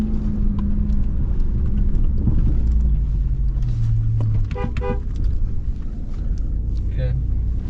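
A pickup truck driving off-road through a jump section gives a low rumbling engine drone with a few short horn-like tones near the end, while people talk over it.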